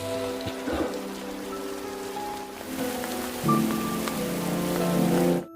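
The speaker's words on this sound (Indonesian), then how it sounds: "Di tengah derasnya hujan" Steady heavy rain hisses through a Korean drama scene, a dense, continuous wash with a few soft thuds and tonal background sounds beneath it, and no voices.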